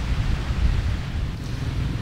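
Wind buffets the microphone at Kaspana beach in Tanjung Lesung, a steady loud rumble mixed with the wash of surf, continuous and close.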